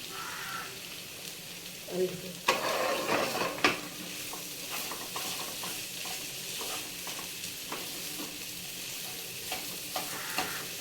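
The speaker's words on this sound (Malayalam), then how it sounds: "നമുക്ക് ഉരുളക്കിഴങ്ങ് ഇട്ടിട്ട് നന്നായിട്ട് മിക്സാക്കി കൊടുക്കാം." Potatoes being stirred into a sizzling masala for samosa filling, with steady frying hiss and irregular scraping, clattering spoon strokes against the pan, close and moderately loud throughout.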